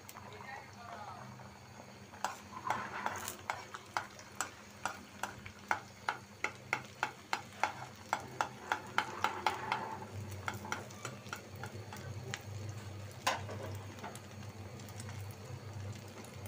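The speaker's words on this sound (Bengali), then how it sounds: "আমার তাওয়াটা গরম হয়ে গেছে, এখন আমি ডিমটা দিয়ে দিব" An egg frying on a hot tawa gives a low, steady sizzle. Over it comes a long run of regular, sharp tapping and scraping from a utensil working the griddle, close and clear.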